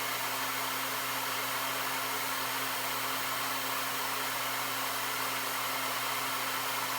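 A Hychika heat gun runs steadily while heating up, giving a constant close airflow roar with a steady motor hum underneath and no talking.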